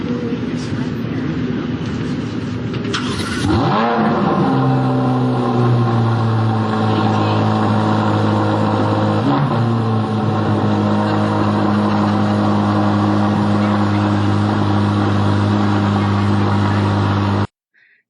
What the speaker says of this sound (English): Mr. EV himself out there revving a gas-powered engine.